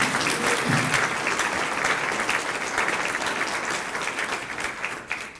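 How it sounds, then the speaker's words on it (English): Audience at a community college press conference breaks into sustained applause, dense and loud from the start and slowly tapering toward the end. "I think that deserves a round of applause."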